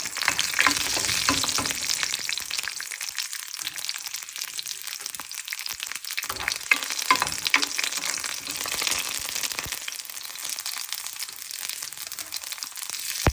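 Loud, steady sizzling of green chillies frying in hot oil with mustard seeds, with continuous crackle and occasional stirring scrapes, close by.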